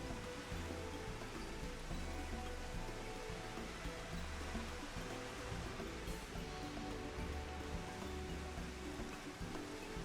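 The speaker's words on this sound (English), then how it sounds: "Is it gonna stop raining, though?" Continuous steady rain in a video game, hissing and pattering, an even wash of drops that never lets up, with no voices.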